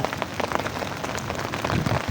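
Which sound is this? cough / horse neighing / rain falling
rain falling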